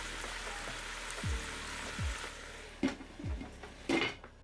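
Spoon scraping and clattering against a pot while carrots and cabbage are stirred for a one-pot German sausage dinner: soft steaming hiss underneath, a few separate knocks and scrapes, then sharper metallic clinks near the end, close and fairly quiet.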